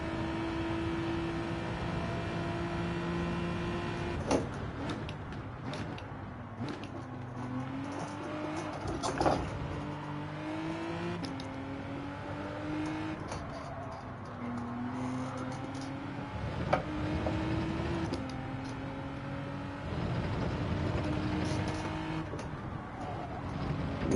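Race car engine lapping in Gran Turismo 7 in a GT4 Open lobby race, a steady droning note that climbs through the revs, dips on gear shifts and climbs again, continuous and fairly close with no talk.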